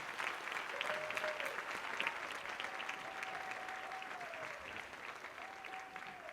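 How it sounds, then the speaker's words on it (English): An audience applauds an award honoree at an evening ceremony, a steady dense clatter of many hands that holds for several seconds, with a faint sustained tone running beneath it. "Let's give a quick round of applause for Carol."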